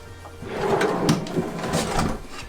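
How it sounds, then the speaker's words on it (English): A big drawer is pulled out inside a vintage Airstream camper, giving a brief rumbling slide with a few light knocks and clunks, close by and with no voices. "So that is a nice big drawer that will pull out."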